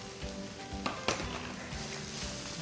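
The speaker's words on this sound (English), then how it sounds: "I'm going to cook my onions in the same pot" Onions cook in a pot with seasoning, giving a soft, steady sizzle broken by a few sharp clinks of a utensil against the pot.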